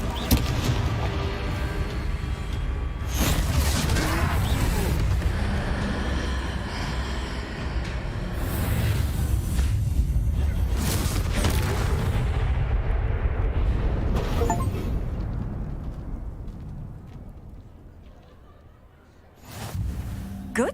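Repeated booming Confringo spell blasts during a troll fight in the Hogwarts Legacy video game, loud rumbling explosions layered with rolling impacts and battle din, dying down toward the end.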